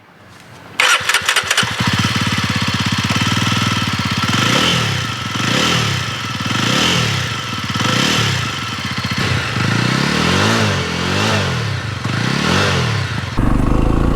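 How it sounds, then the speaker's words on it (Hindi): A 2023 Jawa 42 motorcycle cranks and catches, then its exhaust settles into a loud, close, thumping idle with rhythmic swells as the throttle is blipped repeatedly, ending on a sharper rev. "Now let's hear the exhaust note"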